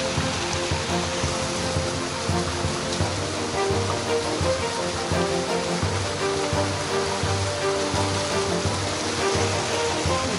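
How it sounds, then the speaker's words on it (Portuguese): The Zambujeiro waterfall near Almograve, Portugal, roars steadily and fairly close, a dense continuous wash of falling water with no break. "à cascata do Zambujeiro."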